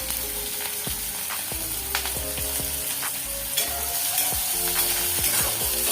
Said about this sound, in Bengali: এখন আমি পেঁয়াজ কুচি দিয়ে দিচ্ছি, কাঁচামরিচ আর কয়েকটা রসুনের কোয়া।